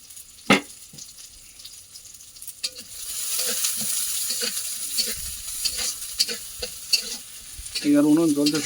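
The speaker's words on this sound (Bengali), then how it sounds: "কড়াই, এবারে পেঁয়াজ কুচি আর রসুন কুচিটা দিয়ে দেবো।" Chopped onion and garlic hit hot oil in a wok over a wood-fired stove, bursting into a steady sizzle with sharp utensil clinks and stirring scrapes throughout.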